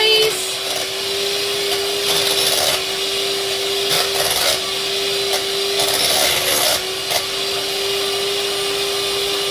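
Electric hand mixer whipping softened cream cheese in a home kitchen for cinnamon roll frosting; a steady, loud motor whine, close by, with the pitch dipping slightly as the beaters catch, running continuously throughout.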